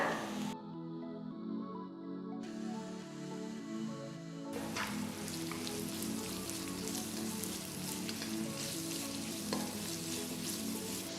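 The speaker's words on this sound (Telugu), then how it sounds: "ఉల్లిపాయలు కొంచెం గోల్డెన్ కలర్ రావాలి అంతవరకు దీన్ని బాగా మనం ఇట్లా సాటే చేయాలి" Finely sliced onions sauté in a pan, starting with a few quiet tones before a dense, steady sizzle takes over, with occasional stirring scrapes and no talking.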